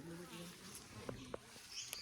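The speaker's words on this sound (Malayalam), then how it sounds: "ആ തേനീച്ച വലുതുണ്ട്" A large honeybee buzzes near a cottage during a forest trek in Munnar, a faint, steady drone with a few light clicks and taps in a quiet outdoor setting.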